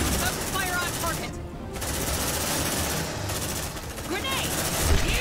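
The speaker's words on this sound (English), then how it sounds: "Open fire on target." Gunfire rattles in Aliens Dark Descent as rapid automatic bursts at moderate level, mixed with shouted voices and combat noise.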